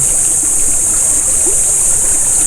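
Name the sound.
river water flowing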